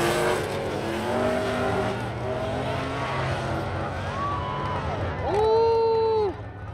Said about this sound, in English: Oh, we got the dragster coming up too.